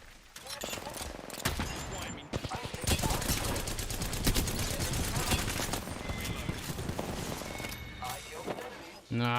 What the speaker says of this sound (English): they're firing back